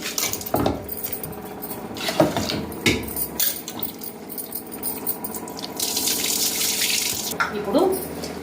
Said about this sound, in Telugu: ఇప్పుడు కడుగుతా ఒకసారి మంచిగా కడుక్కొని